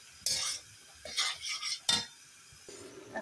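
Cauliflower and other vegetables are tipped into a hot pan of spices for a Bengali sabzi and stirred, giving several close scraping, clinking bursts of a spoon against metal over a soft sizzle.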